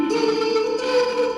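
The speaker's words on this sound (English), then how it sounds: "There's a lot of reverb or echo in the sound" A sustained sung or spoken tone rings out with heavy reverberation, its echo lingering like in a large stone hall.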